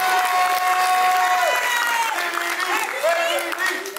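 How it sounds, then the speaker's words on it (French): A crowd applauds a contestant at the Lady and Lord Réunion 2018 pageant. Sustained clapping and cheering fill the hall, with whistles and bright cries riding over the steady roar. "Sous les applaudissements, s'il vous plaît."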